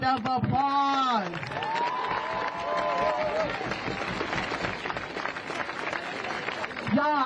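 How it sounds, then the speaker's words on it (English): A protest crowd outdoors claps and cheers, with raised voices and shouts layered over a continuous rumble of gathered people, fairly loud and busy from start to finish. "Give yourselves another round of applause."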